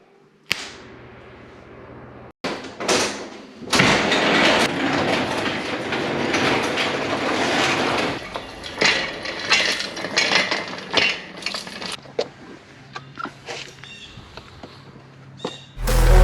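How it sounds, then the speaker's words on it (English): An oil pan being fitted onto a BMW M52 engine block for an E36, heard as loud metallic clanks and scraping, then sustained rattling and knocking, followed by scattered lighter clicks and taps. "let's get this oil pan up in place"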